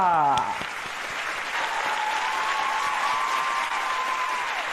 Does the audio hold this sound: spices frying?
no